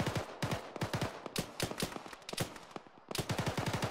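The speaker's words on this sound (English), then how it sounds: "Taking fire." Rapid bursts of automatic gunfire crackle through a military shooter game, dense repeated shots with a brief lull before firing resumes, no talking.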